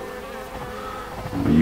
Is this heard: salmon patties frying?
no